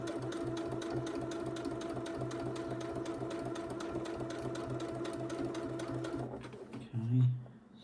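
A sewing machine stitches steadily through a quilted fabric pot, a fast even whirring chatter close by that runs for several seconds, then stops and gives way to a brief low thump.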